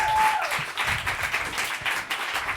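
A comedy show crowd applauds as the next act is welcomed to the stage, a thick, continuous burst of many hands clapping, fairly close and steady throughout.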